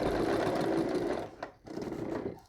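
A sewing machine back-stitching over the seam of a quilt storage bag, whirring steadily, pausing briefly, then running again in short close bursts.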